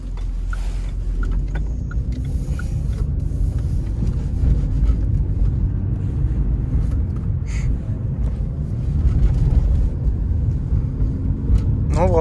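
Renault Megane RS track car that had caught fire on a circuit, cruising on a public road with a steady low engine rumble and wind noise throughout, no sharp revving.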